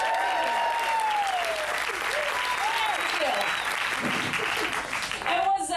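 A comedy audience breaks into sustained applause with scattered cheers, loud and continuous for several seconds, with a voice briefly rising over it near the end.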